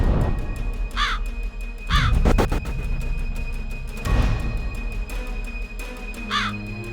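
A pet crow in Negros Occidental gives several loud, harsh caws in spaced bursts of two or three, close by, over a background hum and a few thumps and rustles.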